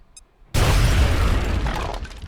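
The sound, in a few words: explosion destroying cover in video game XCOM: Art of War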